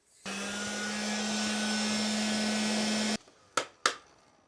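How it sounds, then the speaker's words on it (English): Heat gun blowing on shrink tubing over a battery cable during car wiring repair, a steady loud whirring hiss for about three seconds, then it cuts off, followed by two sharp clicks. "Just gonna take our fan, heater, heat up the shrink tube."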